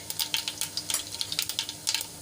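Mustard seeds crackle and pop in hot oil, a quick irregular series of sharp sizzling snaps over a soft frying hiss, close up with no talk.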